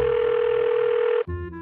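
A phone call's steady tone sounds for over a second, a clean continuous electronic note that cuts off abruptly and gives way to a brief different tone, with no talking.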